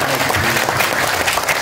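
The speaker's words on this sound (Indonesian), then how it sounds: "Beri tepuk tangan kepada anak kita." An audience of adults at a religious study session claps for a child, giving brief, steady, moderately loud applause with no voices standing out.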